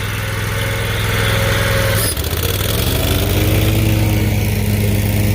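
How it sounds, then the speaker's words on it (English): A lawn mower engine runs steadily and loud throughout while grass is mowed, with a brief dip in load midway before the motor settles back into a strong, even drone. "Savannah's gonna mow it."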